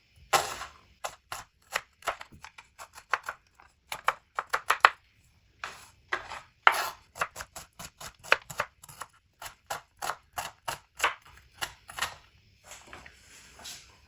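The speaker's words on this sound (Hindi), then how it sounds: "अब इसको छोटा छोटा इस तरह काट लेंगे" Chicken and bread cut into small pieces with a knife, with dozens of crisp, close, rapid chops striking a board in quick bursts with short pauses between them, and no voices.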